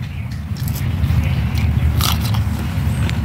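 Someone bites and chews a green chili close up, with crisp crunching bites and wet chewing over a low background hum; no one speaks during the chewing.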